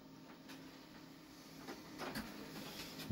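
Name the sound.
printer running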